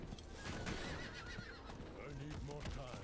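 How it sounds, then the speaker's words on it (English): A horse in a video game whinnies with clip-clop hooves, the neighs rising and falling over the steady game soundtrack. "Man, I hate when the horse gets all floaty like that."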